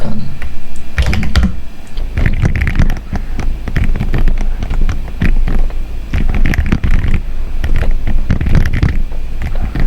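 Rapid, continuous clatter of keys on a computer keyboard as code is typed into MySQL Workbench, close and crisp with brief pauses between bursts.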